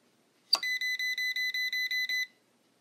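A proximity voltage tester held to a live wire at a light switch gives a sharp click, then a rapid, steady run of about nine high-pitched electronic beeps, loud and close, with no voices.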